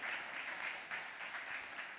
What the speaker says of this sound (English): So give them a round of applause if you can